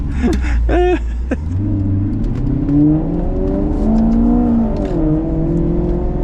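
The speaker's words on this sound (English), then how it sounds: "She puts out a seriously awesome exhaust note." A Maserati GranTurismo MC Sport Line's exhaust roars and rises in pitch as it accelerates, loud and close, with a brief voice near the start.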